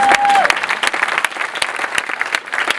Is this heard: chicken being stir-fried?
no